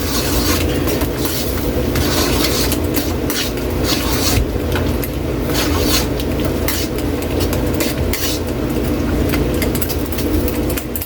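Anchovies fry and get stirred in a pan, giving a continuous loud sizzle with scraping, rattling stirring strokes spread through it and no voices over the top.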